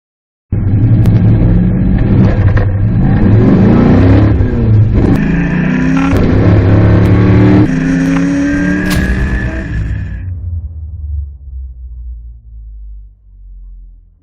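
A Shelby Cobra accelerates hard from a standstill to 80 km/h, a loud, close engine roar climbing through several sharp gear changes before the revs drop away and the rumble fades.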